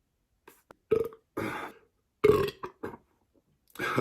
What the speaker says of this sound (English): I know a lot of you guys like the big belches.